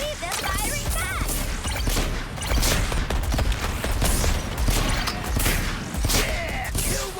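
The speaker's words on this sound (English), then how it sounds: "Can't believe they're firing back." Rapid, dense gunfire and crashing impacts from a Suicide Squad: Kill the Justice League firefight, loud and continuous with bursts and booms, under intermittent talk.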